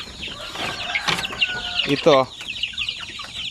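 Chickens raised for sale cluck nearby in a few short, uneven bursts, with one louder squawky call near the middle and a person's voice speaking briefly among them.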